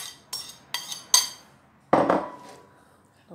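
A spoon works through a bowl of rice salad with tuna and chopped olives, giving three or four sharp clinks against the bowl, then a pause and a louder scraping clatter that fades out, with no talk.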